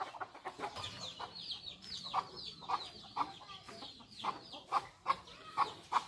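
A hen clucks steadily as she leads her seven chicks out of the coop, the close, rhythmic clucks coming in short repeated bursts that grow slightly louder toward the end.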